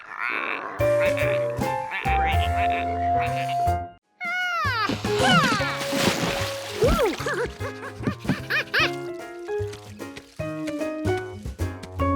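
Frogs croak in a cartoon, mixed into bright, busy music with sliding tones and comic sound effects. Brief bursts of voices join the playful score.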